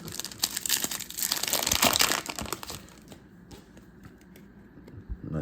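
A Yu-Gi-Oh booster pack wrapper crinkles and tears loudly up close as it is opened, with dense crackling foil that fades into lighter rustles and clicks. No one speaks.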